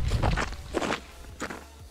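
Footsteps of a hiker wearing microspikes on a Dolomites mountain trail in the Brenta group, three distinct crunching steps at a steady walking pace, close and moderately loud with no talking.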